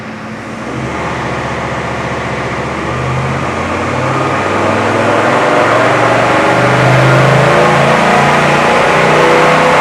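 A Toyota 79 Series Landcruiser on a dyno rises from a loud idle into a long, steadily climbing rev, with a loud, droning engine note that builds in pitch and volume throughout.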